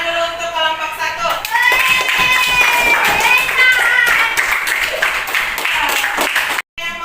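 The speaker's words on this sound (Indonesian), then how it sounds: "Tepuk tangan dulu untuk kelompok 1." A class applauds a group's presentation in a school lesson, steady clapping from many hands filling the room, with children's voices and cheering mixed in throughout and a brief cut near the end.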